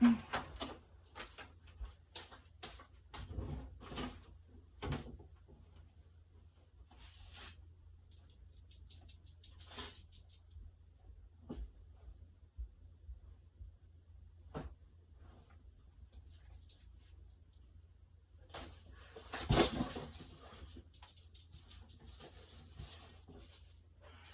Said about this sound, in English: that was me knocking a bunch of stuff over in my craft room.